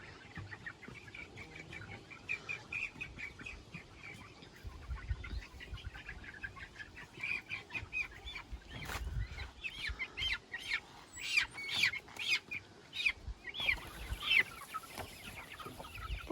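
Hens cluck and chirp inside a large cage while chicks are being separated, with soft scratching and rustling of bedding; repeated clucks grow busier and louder toward the end, with no speech.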